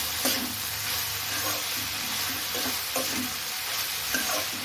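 Vegetables fry in a pan while being stirred, a constant close sizzle punctuated by repeated scraping strokes of the spoon, with no talking.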